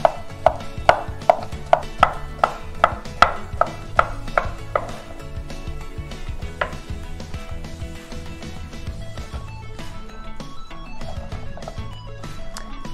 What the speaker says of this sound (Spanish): vamos a pelar el pepino, a cortarlo por mitad y vamos a sacar medias lunas